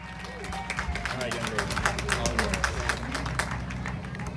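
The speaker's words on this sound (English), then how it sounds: "Let's give her a big round of applause" Audience applause with scattered claps and crowd murmur for a national anthem singer, steady and moderately loud, running throughout with some talk mixed in.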